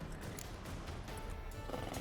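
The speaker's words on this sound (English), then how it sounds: "Get on the horse." A horse in the video game The Witcher 3: Wild Hunt, set in Skellige, heard as soft hoof movement and a faint whinny beneath a dense, steady bed of game ambience.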